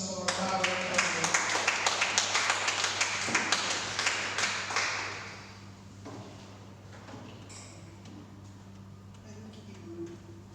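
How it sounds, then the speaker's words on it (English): An audience claps for the president at a poetry and storytelling open mic, a brisk run of close, sharp claps that fades out after about five seconds into quiet room tone. "give a round of applause for our president"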